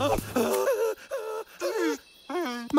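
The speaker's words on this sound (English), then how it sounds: "Trunk's snoring." Cartoon elephant snoring, rendered as drawn-out groaning, moaning tones in a repeating rise-and-fall rhythm, close and fairly loud with brief pauses between breaths.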